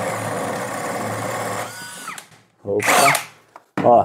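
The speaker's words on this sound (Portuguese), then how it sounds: "sem nenhuma dificuldade, a broca foi" A 21V brushless cordless drill bores through wood, whining steadily and loudly for about two seconds before winding down, followed by brief exclamations from a man.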